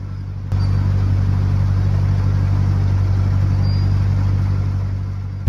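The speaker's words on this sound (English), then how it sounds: "You can hear the engine labouring as we're pushing against the flow of the canal." A narrowboat diesel engine labours steadily while pushing against the flow of the frozen Llangollen Canal in winter, a loud, constant low rumble that starts abruptly and runs unbroken throughout with no talk.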